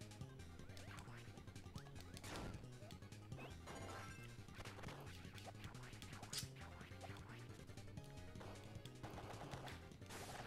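Dark Mind, the final boss of the Kirby & The Amazing Mirror video game, shatters in a dense run of crashing, smashing impacts layered over loud, continuous game music, with sharp bursts rising throughout.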